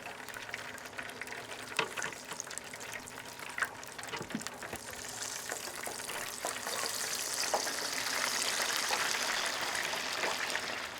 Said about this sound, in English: I'm gonna keep frying these up